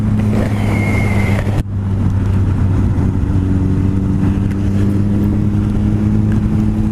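Motorcycle engine running steadily with a brief drop at a gear shift made with the clutch lever and toe, then settling into a constant drone with wind rush, loud and close, no talking.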